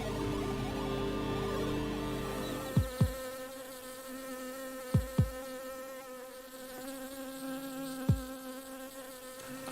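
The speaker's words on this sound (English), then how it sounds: "I took the sound of 4 different bees and translated them into notes and chords" Buzzing from four different bees turned into musical notes and chords, heard as a thick, sustained insect-like drone with layered tones and a few low thumps, fairly close, with no talking.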